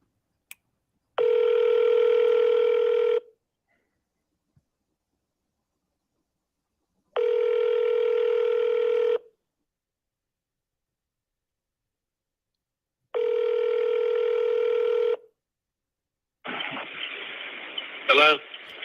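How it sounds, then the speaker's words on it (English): A telephone handset gives three steady dial-tone bursts with long silent gaps between them, followed by a brief burst of rapid keypad dialing tones. "Pick up the phone and start dialing."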